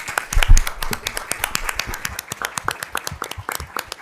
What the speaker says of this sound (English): I think they deserve a round of applause for their work